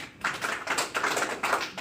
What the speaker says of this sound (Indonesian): Tepuk tangan untuk FAI